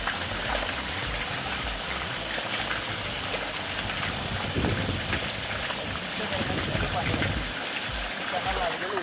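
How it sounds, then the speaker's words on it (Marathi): Water gushing steadily from a borewell on a farm near Pune, a continuous rushing wash with an engine-like rumble underneath, loud and close throughout. "त्याचं पाणी येतेलं बघा"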